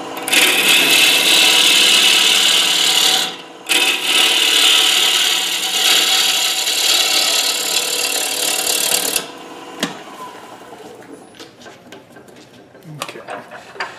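A gouge cuts a small piece of wood spinning on a lathe at about 1000 RPM, making a loud, steady rasping hiss with a short break, then fading into quieter scrapes and knocks near the end.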